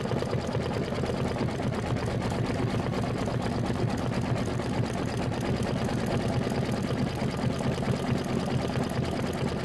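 A Kimberbell quilting machine stitching a landscape frame detail in lead gray thread, a steady, fast mechanical whir and needle chatter running unbroken and evenly loud throughout.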